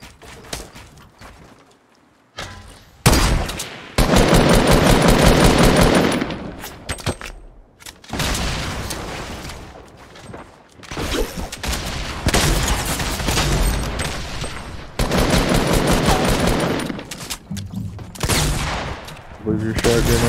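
Online shooter game gunfire in a solo squads match, repeated loud bursts of rapid shots and booms in dense clusters separated by brief lulls, close and harsh.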